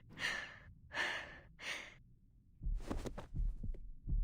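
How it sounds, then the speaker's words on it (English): A heavy heartbeat pounds in a quiet scene from the game Reverse: 1999, with deep rhythmic throbs and breathy sighing swells near the start, then denser low thumps building toward the end. "Rabuska settles on the floor, feeling her heart pounding louder and louder."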